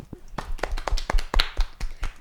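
A small audience clapping during a student podcast recording, a sparse, uneven patter of individual claps close by with some voices mixed in.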